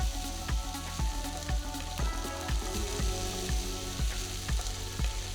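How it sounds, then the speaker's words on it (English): Finely chopped onion fries in a pan with roasted peanuts and mustard seeds, a loud crackling sizzle punctuated by regular rhythmic knocks of a spoon stirring, close up and continuous. "After the peanuts are roasted, add 1 finely chopped medium-sized onion to the pan."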